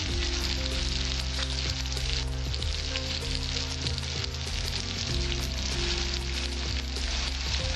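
Large onion pieces sizzle and fry in hot oil for a Bengali katla fish curry, a loud, continuous close crackle with occasional stirring and no voices.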